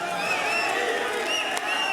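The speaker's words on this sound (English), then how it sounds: "Keen Gaming, crowd cheering them on." Esports arena crowd cheering for Keen Gaming at ESL One Mumbai 2019, a steady dense roar of many voices with whoops and shouts, sustained and loud throughout.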